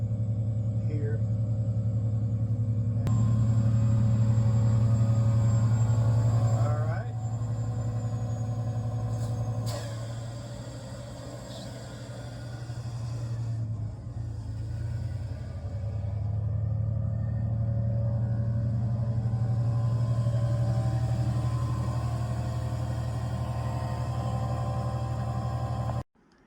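A carpet cleaning truck's engine rumbles at a steady low drone for about half a minute, with a few faint clicks and shifts along the way, before cutting off abruptly at the end.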